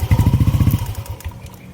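A Yamaha NMAX or Aerox 155 scooter engine cranks with a loud, rapid chugging rhythm for under a second, then sputters and fades as it dies, leaving near silence.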